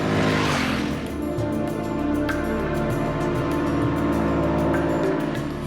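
Ducati XDiavel S with its 1200cc eight-valve V-twin running on the road, a steady loud engine drone with layered low harmonics and slight pitch shifts as it rides, alone without talk.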